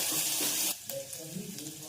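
A loud burst of sizzling from hot oil with mustard seeds and cumin cuts off sharply as ginger-garlic paste goes in, leaving quieter crackling and spluttering afterward.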